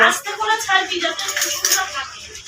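A frying pan and spoon are handled with eggs nearby, giving a few light metallic clinks and taps under a voice talking close by.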